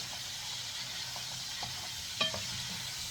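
Chicken liver frying in a pan with a steady low hiss, while a utensil stirs it in a few soft scrapes, one firmer clack near the end.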